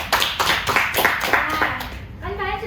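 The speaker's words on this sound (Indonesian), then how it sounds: "Oke, tepuk tangan buat Dila semuanya." A classroom claps for a student, a handful of sharp, separate hand claps in an uneven rhythm, fairly close, before a voice speaks at the end.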